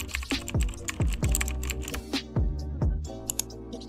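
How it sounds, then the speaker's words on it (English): A website name is typed on a computer keyboard, loud close key clicks in an uneven rhythm with several sharp presses, alone without talk. "type the name of your website and select a free domain"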